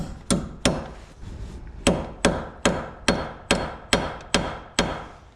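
A hammer taps on a steering knuckle from a 2013 Corolla with a failed wheel bearing, giving about a dozen sharp metallic knocks spaced roughly half a second apart, loud and close, with no voices.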